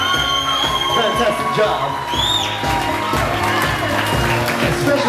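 Wedding guests at a sangeet and reception applaud and cheer as a full, steady crowd roar with whoops throughout, while a voice speaks briefly over the noise.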